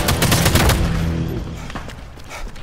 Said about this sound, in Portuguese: É um tiro.